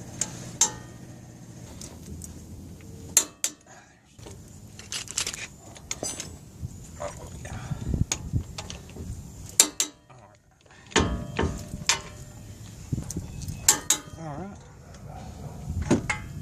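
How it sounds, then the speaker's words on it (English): A torque wrench tightens ball joint bolts on a 2003–2009 Dodge 2500/3500 4x4 truck in a crisscross pattern, giving sharp metallic clicks spaced through the clip, with someone talking at times. "So, we'll grab our handy torque wrench. Now, do these in a crisscross."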